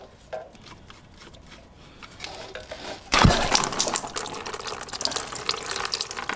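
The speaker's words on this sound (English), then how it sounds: "Gonna empty any coolant that there is in the bike." Coolant drains from a wrecked Honda CBR1000RR during a teardown: quiet at first, then a sudden steady splashing stream starts partway through and keeps running, close and fairly loud.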